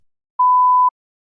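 A single clean electronic beep, about half a second long at a steady mid pitch, serves as a TOEFL practice test prompt. It sounds alone, clear and loud, against silence.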